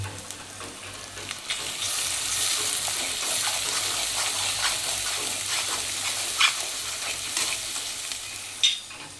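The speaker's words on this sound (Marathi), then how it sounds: "त्याला चांगलं हलवून घ्यायचं आहे." A pan of egg curry masala is stirred steadily over a continuous sizzle of frying, with a low hum beneath and a couple of sharp utensil clinks near the end, close and fairly loud, no voices.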